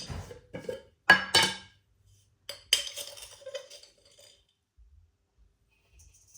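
A few separate bursts of clinking and scraping, like a spoon stirring in a bowl, close and fairly quiet, then near silence.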